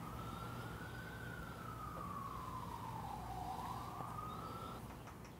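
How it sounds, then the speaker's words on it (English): A faint emergency vehicle siren wails outside a Manhattan dentist's office in Lenox Hill, a single rising and falling tone sweeping slowly over steady city hum, distant and alone without talk. "I'm gonna wait for the siren."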